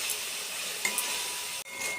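Ground spices, including salt, turmeric, cumin powder and Kashmiri chilli powder, are stir-fried in oil in a pan with a soft continuous sizzle and light scraping and clinks of a spoon against the pan, close and without speech.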